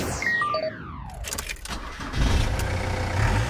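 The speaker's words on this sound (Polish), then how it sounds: "Ruch uliczny, rozregulowany silnik, startujące samoloty." Street traffic passes with a car pulling by and fading, then a poorly tuned car engine settles into a rough, uneven low running sound, fairly close.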